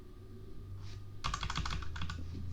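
Quick bursts of keystrokes on a computer keyboard, close and crisp, with a faint single tap before a dense run of clicks and a few trailing strokes over a low steady hum.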